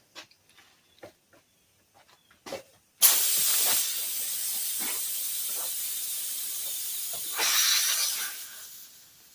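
Loud, steady hiss of air escaping from a truck tire valve on a 1998 Dodge Ram after a pressure gauge is pulled off, rising again near the end before tapering, following a few faint knocks and clicks.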